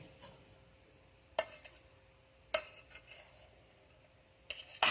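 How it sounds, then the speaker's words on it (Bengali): A spoon lightly stirs ground black pepper into freshly made mixed fried rice, giving a few sharp scraping clinks against the dish at irregular intervals over a quiet background. "এটা হালকাভাবে মিশিয়ে নিলাম গোলমরিচটা"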